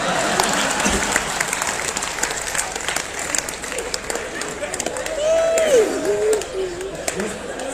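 Audience applause and crowd noise at a Hindi comedy poetry gathering, a steady wash of clapping with cheering mixed in, a whistle-like tone rising and falling near the end.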